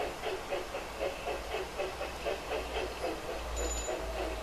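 A Camelback 0-6-0 steam locomotive runs in the Railroad Tycoon 3 video game. Rhythmic chuffing and clickety-clack beat steadily with a low rumble and a faint whistle-like tone near the end, no talking.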